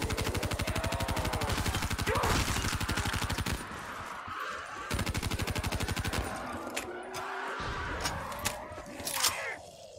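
Death Machine minigun in a zombie video game firing in long rapid bursts, a dense rattling stream of shots that stops and restarts, loud and up close amid other game gunfire.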